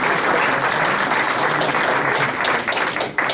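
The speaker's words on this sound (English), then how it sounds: "I have a feeling we're going to get a lot of applause as we're going through this" Sustained applause fills a dedication ceremony honoring Fred Crawford, a steady dense clapping from a large crowd that holds evenly throughout, then thins slightly and briefly dips near the end.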